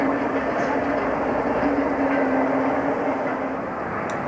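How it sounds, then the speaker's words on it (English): A train of empty HAA coal wagons approaches Mineral Quay sidings, a loud, close, steady rumble with a sustained low drone and faint wheel clatter, gradually easing off at the end. "a train of empty HAA coal wagons approaches Mineral Quay sidings"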